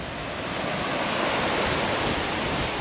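Ocean surf on a scenic beach with cold water rolls as a steady, full-bodied roar, constant and fairly loud with a slight windy rush, and no voices.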